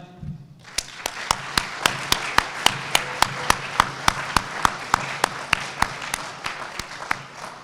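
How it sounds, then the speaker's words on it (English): A steady round of applause for two distinguished alumni at a high school assembly. Loud, crisp, evenly spaced claps run close by for several seconds after a quiet start. "I'd like to give one more round of applause for our 2 distinguished alumni"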